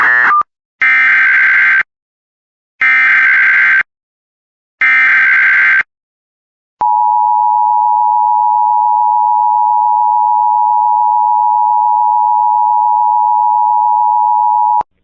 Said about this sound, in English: The following tones will activate the emergency alert system.